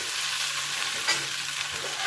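Sweet potato pieces sizzle steadily in hot oil in a pan while being stirred, with a continuous close frying hiss and occasional soft scraping, no voices.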